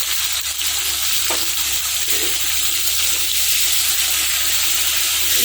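Paneer chips fry in hot oil in a kadai, giving a continuous, loud, even sizzle with no talking.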